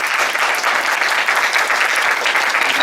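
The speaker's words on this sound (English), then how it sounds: "Let's give applause for our volunteers and" An audience applauds the volunteers at an event, a dense, loud, even wash of clapping that holds steady throughout without voices.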